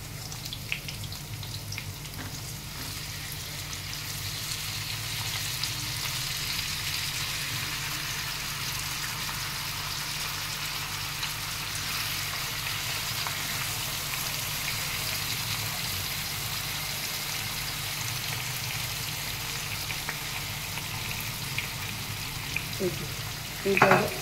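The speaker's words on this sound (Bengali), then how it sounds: "এইবার আমি এই মাখানো পনিরটা দিয়ে দিচ্ছি" Marinated paneer goes into hot oil with fried capsicum for golmorich paneer, giving a steady, close frying sizzle that runs the whole time with faint stirring and a small clatter near the end.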